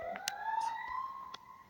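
An alarm triggered in the Free Fire video game, a rising siren-like electronic tone that sounds steadily for under two seconds, with brief clicks over it.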